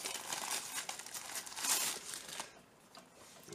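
A glued plastic bag from a Lekato AMT-600 metronom/tuner package is torn open, a close, crinkly rustling and ripping for a couple of seconds that then drops to quiet handling noise.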